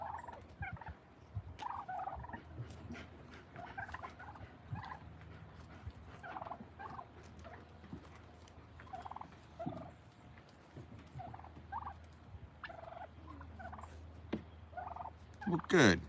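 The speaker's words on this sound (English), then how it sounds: "I'm just hanging out with the turkeys." Domestic turkeys on a chicken farm gobble repeatedly in bursts across the whole stretch, several birds calling near and farther off over a low background hum.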